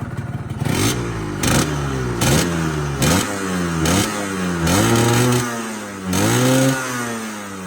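A used motorcycle's engine idling and being revved in repeated short bursts, each rise in pitch falling back to a lumpy idle, close and loud.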